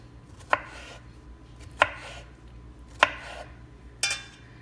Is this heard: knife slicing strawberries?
yes